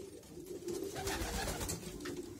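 Pigeons coo inside a breeding loft, with low, soft, rolling calls that overlap continuously at close range and no voices.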